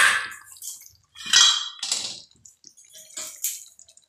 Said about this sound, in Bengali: এবার হালকা গরম জল দিয়ে